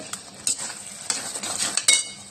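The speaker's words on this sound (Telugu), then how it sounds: "ఇక్కడ ఇలా కలుపుతానే ఉండాలండి" A thick dry fruit sweet mixture with cardamom powder is stirred in a pan, giving close, repeated scraping and soft sizzling strokes in an uneven rhythm, with no talking.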